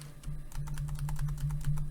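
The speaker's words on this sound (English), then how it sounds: "let's just type in directly" Steady rapid typing on a computer keyboard while entering an Excel formula, dense keystrokes close up over a constant low electrical hum.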